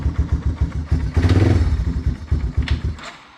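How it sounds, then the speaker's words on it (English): A Yamaha Timberwolf 250 ATV engine idles close by with a rough, uneven chugging beat that surges briefly and then sputters and dies, ending in quiet. "when it's cold, it idles pretty good, but when it gets warm, it likes to idle really high"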